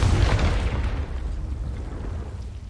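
The Confringo spell explodes in the video game Hogwarts Legacy: a single loud, close boom with a rumbling tail that fades over a couple of seconds.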